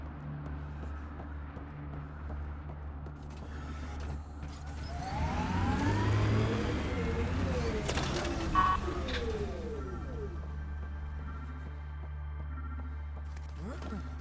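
A car engine revs and whines through a Mass Effect: Andromeda game scene, rising and sweeping in pitch midway with mechanical clatter, steady hum behind it.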